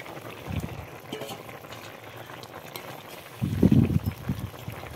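Fish pieces dropped into a simmering bitter gourd curry, a soft bubbling simmer followed by a louder burst of splashing and sizzle as the pieces go in, close by.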